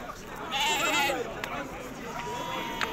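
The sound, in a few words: sheep bleating at Saturday livestock market in Aguelmous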